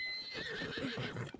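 A horse in Zelda: Tears of the Kingdom gives a short, high whinny, close and clear, mixed with a few hoof clops, all within a second and a half.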